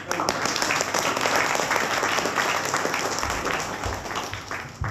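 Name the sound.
audience applause at improv show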